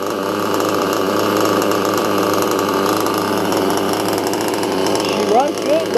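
A Hobao MacStar nitro RC engine fitted with a .28 Werks carburetor, running rich, holds a steady loud buzzing idle throughout, with faint whistling chirps near the end.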